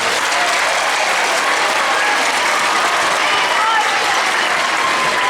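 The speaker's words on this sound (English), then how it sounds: "All of you, give yourselves a round of applause." Dense, loud applause from a large crowd, steady throughout with no pauses.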